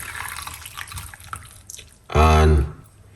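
Lemon and parsley tea being poured: a short, loud splashing gush of under a second over quiet background sound.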